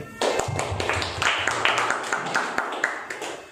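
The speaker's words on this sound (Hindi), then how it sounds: "क्यों ना हम परमेश्वर के लिए और वर्शिप की टीम के लिए ताली बजाएं।" Church congregation at a midweek service clapping together for God and the worship team, a dense, steady patter of many hands in a reverberant hall, lasting a few seconds with no talk over it.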